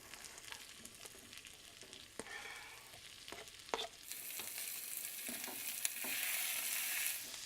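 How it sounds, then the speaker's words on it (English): Rice, garlic and onions fry in a pan with a steady broadband sizzle and occasional scraping stirs; the sizzle swells louder in the second half as the pan heats, close and without talk. "So now I just need to add my rice, the garlic, and the onions"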